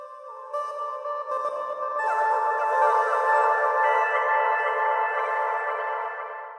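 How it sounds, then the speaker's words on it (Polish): A vocal ad-lib put through the Portal sound design plugin: a smeared, shimmering, granular tonal wash that swells and sustains for several seconds before fading, sounding synthetic and heavily processed rather than like a plain voice. "Posłuchajmy, jak brzmi podbitka z portalem."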